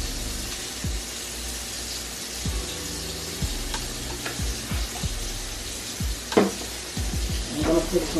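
Red peppers and onions fry in a pot for a stewed chicken dish, giving a steady close sizzle with repeated low knocks and scrapes from stirring.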